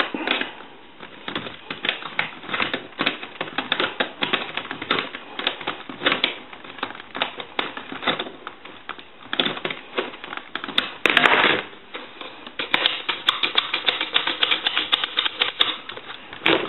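Small metal parts being tightened during repair of an original Snoopy and Woodstock telephone, a close, continuous series of scraping, ratcheting clicks and rustles that comes in irregular bursts.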